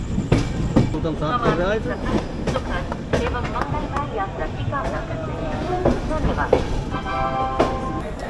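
Passenger express train pulling into platform one at Moradabad Junction, with a loud continuous rumble of wheels on rails and clicking joints close by, plus squealing tones and crowd noise around.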